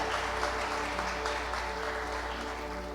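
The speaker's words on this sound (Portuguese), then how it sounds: "Então vamos dar uma salva de palmas para a palavra de Deus" Steady applause from a church congregation for a preacher's sermon, a dense continuous patter of clapping hands throughout, loud and close.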